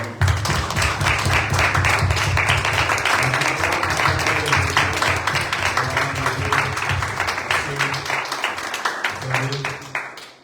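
A church congregation applauding, a dense, loud, continuous wash of many hands clapping for about ten seconds that fades out at the end, with voices mixed in beneath.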